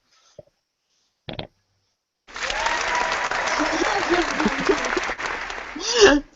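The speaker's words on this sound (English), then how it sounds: "Jim, hit the applause button." A canned applause sound effect triggered from a button bursts in after a couple of short clicks and bumps, a bright sustained clapping crowd that holds steady for several seconds before swelling slightly at the end.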